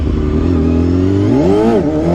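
A classic four-cylinder Honda CBR250RR MC22 revs hard in first gear, its engine note climbing steeply and dipping again during a wheelie attempt, loud and close with no talk over it.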